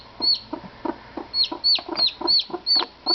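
Bantam chick calling: a run of high, sharp peeps, roughly ten in about three seconds, with soft clucking and rustle between them, close and fairly loud.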